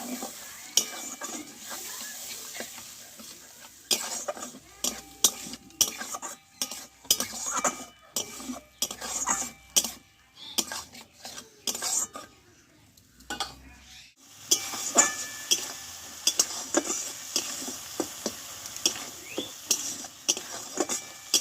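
Flat beans are stir-fried in a pan with a green chilli, poppy seed and mustard paste and tomato: busy, rapid spatula scraping over a soft sizzle, with a short lull midway before the stirring picks up again, close and steady.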